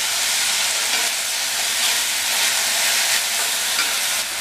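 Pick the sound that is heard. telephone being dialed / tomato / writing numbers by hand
tomato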